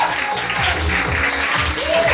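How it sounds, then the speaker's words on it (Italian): A crowd at a carnival event in Termini Imerese applauds two presenters, with steady, continuous clapping throughout. "facciamo un applauso per Alberto Fazio e Davide Canzonieri"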